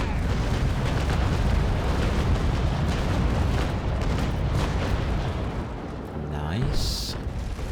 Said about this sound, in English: Trying to get me cannons focused properly. There they go.